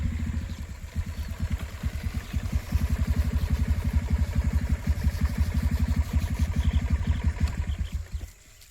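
Hero Splendor motorcycle engine runs close by with a rapid, even low putter that speeds up and stays steady for several seconds before cutting off near the end.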